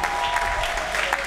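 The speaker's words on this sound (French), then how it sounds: "Acclamez." A church congregation applauding during a sermon, dense steady clapping close and fairly loud throughout, with a few voices mixed in.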